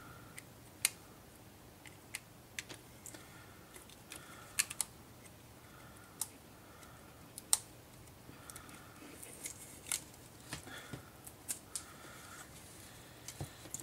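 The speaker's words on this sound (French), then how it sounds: "on nettoie avec un cutter" Utility knife scraping leftover bits of glass off the metal frame of an iPhone 4, a quiet scratch and rasp under sharp clicks and ticks that fall irregularly, near and faint.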